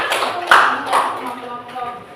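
Classroom audience applauding during a group presentation session, short bursts of hand claps rising and fading, mixed with talk and room voices.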